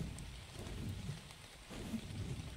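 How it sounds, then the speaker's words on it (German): Steady rain with low rumbling thunder in a stormy, mountainous island setting of the video game ARK Ragnarok, a continuous wash of falling water over a deep rolling rumble that swells twice. "Leider regnet es gerade."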